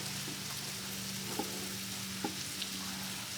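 A big piece of salmon sizzles over an open cook fire, a steady close crackling hiss broken by a few small pops.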